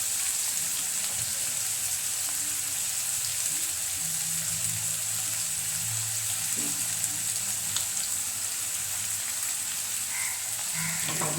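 Fried chicken pieces drop into a masala of onion, shallot, ginger, garlic and chilli in a pan, giving a steady background sizzle with low bubbling and occasional spatters over about eleven seconds.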